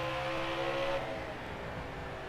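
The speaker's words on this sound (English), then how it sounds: "Gaggle of cars." A pack of stock cars races together at Bristol in NASCAR Heat 4, a dense, continuous engine drone with overlapping motor tones, steady and fairly loud, shifting slightly as the cars pass.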